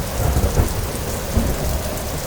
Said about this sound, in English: there was a loud clap of thunder, and big raindrops started to fall from the sky.